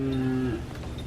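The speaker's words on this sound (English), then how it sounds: "the cows are going to keep us company" A single cow on a farm gives a low, harmonic moo at close range that lasts about half a second and then breaks off into quiet outdoor ambience.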